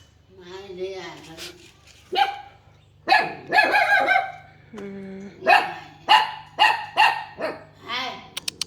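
A dog barks several times in a row, close and loud, with short spaced barks that grow more regular toward the end, mixed in with people talking in Thai.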